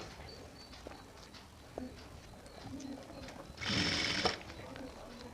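Sewing machine stitching a jute hand purse: a short burst of fast mechanical whirring near the end, over a quiet room with intermittent pigeon cooing and soft background sounds.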